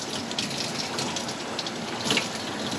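Tap water running steadily over roasted Hatch chilies as they are rinsed, a continuous close hissing gush with slight splashing variations and no talking.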